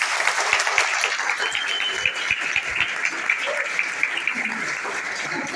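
Hearty applause from an audience at a business-plan meeting in Dombivli, Thane, steady dense clapping throughout with no voices over it.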